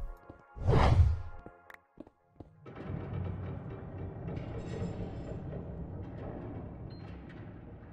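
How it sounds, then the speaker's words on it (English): A train in the Minecraft video game rumbles past after a loud whoosh, its steady mechanical rolling noise filling the rest of the clip at moderate volume with no talking. "Looks like there's another train nearby."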